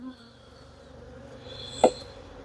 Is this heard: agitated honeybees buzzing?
yes